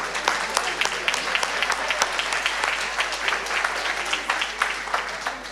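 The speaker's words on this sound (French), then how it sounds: "On peut les applaudir très fort, hein, bravo." An audience at a live French dictation event applauds the winning students with sustained, moderately distant clapping that holds an even, dense texture throughout.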